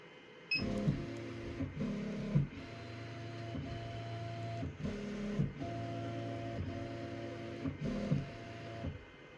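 A Redline embroidery machine traces a design outline on a towel, its motor whirring in steady stepped bursts of tonal buzzing with brief pauses between moves, close and alone.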